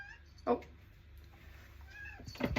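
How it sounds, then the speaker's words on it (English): A cat meows outside a closed door, calling to be let in; two short meows, one near the start and one at the end, with a brief spoken exclamation and quiet room noise between. "She was meowing outside the door."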